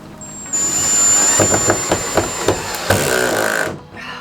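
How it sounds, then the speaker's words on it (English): A screw being driven by a power driver through a van's metal panel into a wooden stud: a loud, close whining motor with a series of rhythmic knocks, ending abruptly after about three seconds. "once you start screwing it in"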